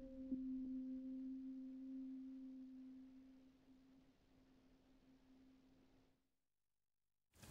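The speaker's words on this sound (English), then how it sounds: "What I've done is to sequence one note for the worn tape piano" A single sustained piano note from the worn tape piano preset in Logic Pro X, steady and fairly loud at first, then slowly fading into a soft decay before cutting to silence.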